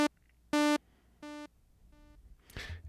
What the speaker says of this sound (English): the echo iterations swing back and forth in the stereo field.